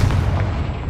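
A Confringo fire spell explodes in the wizarding game Hogwarts Legacy, one loud, deep, rumbling blast that fills the whole brief moment.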